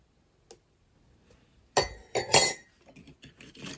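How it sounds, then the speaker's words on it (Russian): A few sharp glassy clinks and scrapes of a spoon stirring salt and sunflower oil into a mixture in a glass, close up, in bursts after a quiet start. "Все хорошо размешиваем."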